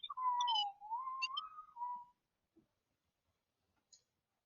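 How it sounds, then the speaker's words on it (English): A person whistles the Jeopardy theme melody, a clear close solo tune lasting about two seconds, followed by near silence with a couple of small clicks. "whistle the Jeopardy theme"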